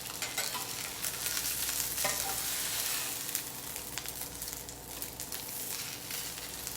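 Breaded wild cod fries in a pan with a continuous close, bright sizzle and crackle, occasional small pops and faint utensil movement, steady in loudness, with no talking.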